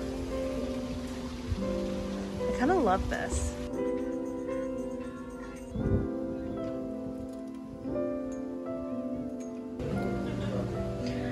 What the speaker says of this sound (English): I was just about to get into the pool, and it's raining